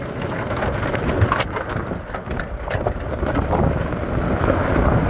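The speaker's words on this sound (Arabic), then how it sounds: "بردية عنيفة" Violent hailstorm on desert land along the Maliha road in Dubai, a dense, continuous rattle and hiss of hailstones with gusty wind, loud and steady throughout with no speech.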